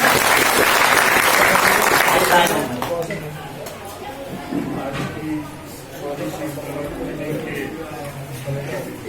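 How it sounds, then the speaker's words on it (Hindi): An audience at a community event in Karawal Nagar claps to welcome guests, a loud burst of applause that fades after a couple of seconds into scattered claps and crowd chatter. "तो तालियों से एक बार तगड़ा स्वागत करें।"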